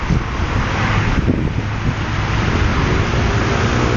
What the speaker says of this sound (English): Rain coming down.